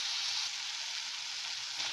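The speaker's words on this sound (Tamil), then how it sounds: "ஸோ நல்லா ஒரு 2 நிமிஷம் வதக்கிக்கலாம்." Tomatoes sautéing in a pan, a steady, even sizzle of frying with a bright hiss that holds throughout, fairly soft and uninterrupted.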